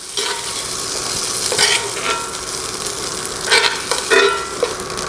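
Pork pieces browning in olive oil in a pan for a slow-cooker stew give a steady close sizzle, with a few louder stirring scrapes and clinks standing out partway through.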